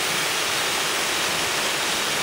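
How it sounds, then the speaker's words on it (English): A tiered waterfall about 25 feet high in Costa Rica, its falling water making a steady, broad rushing roar that stays constant and fairly loud with no voices. "It's a tiered waterfall of about 25 feet."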